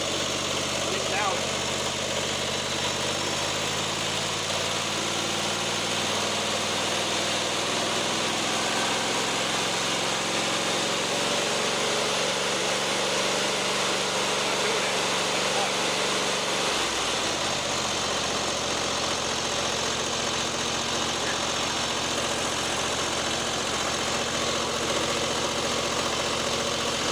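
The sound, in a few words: lawnmower engine running after repair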